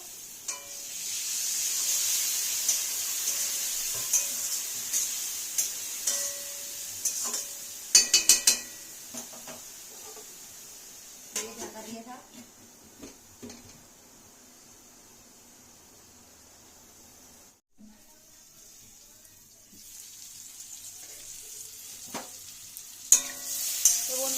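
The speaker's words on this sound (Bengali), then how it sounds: "আমি একটু জল দেবো জল দিয়ে একটু কষবো" Food sautéing in a pan with a little water, with a soft continuous sizzle, intermittent scraping and clinking of a utensil, and a brief lull before the stirring resumes, heard close and fairly quiet.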